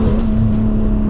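A Nissan GT-R engine hums loudly and steadily from inside the car while cruising, a low droning tone with constant road rumble.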